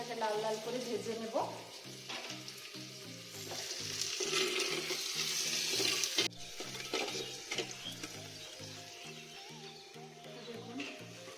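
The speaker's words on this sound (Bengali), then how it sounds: "তো 5 মিনিট আমি পেঁয়াজটাকে লাল লাল করে ভেজে নেব।" Chopped onions fry and sizzle in a pot while being browned, a bright continuous hiss with rhythmic stirring scrapes, close and fairly quiet with no talking.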